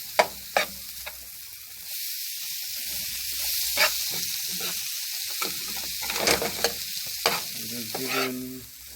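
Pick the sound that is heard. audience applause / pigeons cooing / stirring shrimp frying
stirring shrimp frying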